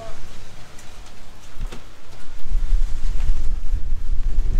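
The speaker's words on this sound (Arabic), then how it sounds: "شتا شتا شتا شتا." Rain falls steadily on a street in Belgium, a continuous wash of drops with gusty wind buffeting the microphone, growing heavier and louder toward the end.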